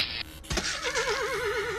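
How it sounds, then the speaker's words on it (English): A horse-like enemy with massive hands in the game Lithium: Inmate 39 lets out one loud neigh after a short thump, the whinny wavering and trailing off over about a second with no talk. "there's enemies what look like horses with massive hands on them"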